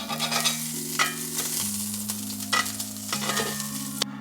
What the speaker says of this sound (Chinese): 锅里面加一些橄榄油， 然后再加1小茶匙的黄油，